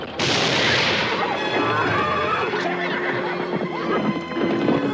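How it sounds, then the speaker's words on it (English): A car backfires with a sharp bang-like burst near the start, startling a horse that whinnies and snorts amid a loud, busy commotion with clattering hooves. "car backfires, sends the horse off."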